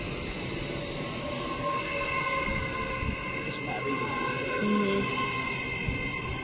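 An LNER Azuma train rumbles steadily nearby as it arrives at a station, with a low mechanical drone and faint hum, people murmuring in the background.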